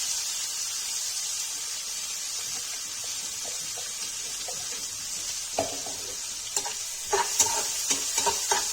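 Chopped onions fry in oil tempered with cumin for a Kashmiri-style crispy okra dish, a soft steady sizzle with a few sharp spoon scrapes and clicks of stirring toward the end.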